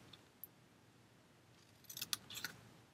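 Scissors cut through card in a quiet room: a couple of isolated faint snips, then a quick cluster of sharp, close blade clicks near the end.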